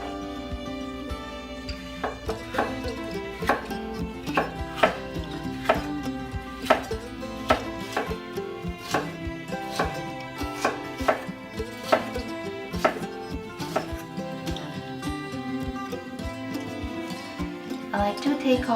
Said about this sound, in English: Cut off these white membranes.